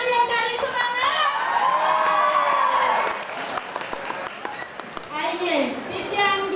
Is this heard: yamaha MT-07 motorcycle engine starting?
no